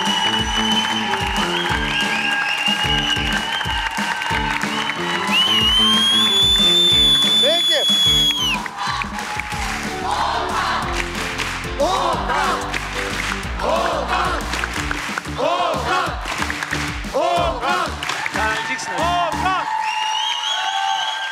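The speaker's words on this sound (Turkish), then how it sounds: "koskocaman alkışlarla Okan'ı arabaya gönderdik" A studio audience on the Turkish game show Var Mısınız Yok Musunuz applauds and cheers under loud show music, with some voices mixed in.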